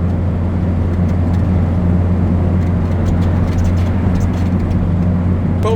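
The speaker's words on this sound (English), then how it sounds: "whining from the gearbox does worry me slightly" A Talbot Express van on a test drive with a whining gearbox, carrying a constant loud drivetrain drone and road noise throughout with no breaks.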